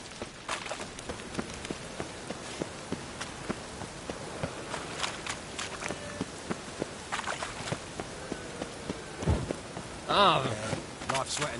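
Soft video game rain in The Witcher 3 patters continuously with scattered drips and taps, and a brief voice near the end.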